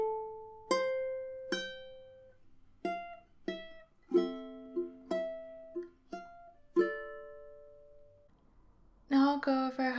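Plucked ukulele notes and a few strums ring out one at a time with short pauses between, clear and close, ending in a brighter chord.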